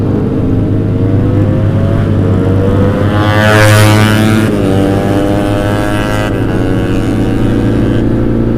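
A racing motorcycle engine roars loudly and steadily through a JB159 trioval aftermarket exhaust, holding a deep rumbling drone with a brief rise in revs midway.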